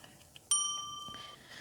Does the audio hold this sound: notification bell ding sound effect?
yes